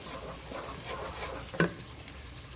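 Garlic and fresh onions fry in about half a cup of oil on a stove, giving a steady soft sizzle with a single sharper clink of a utensil partway through.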